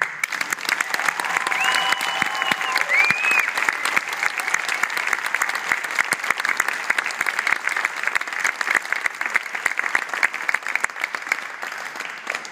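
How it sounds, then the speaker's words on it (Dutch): A large audience applauds at a folk violin concert at De Centrale in Ghent. The dense, steady clapping fills the whole stretch at an even level. "Geef hem een groot applaus, dames en heren."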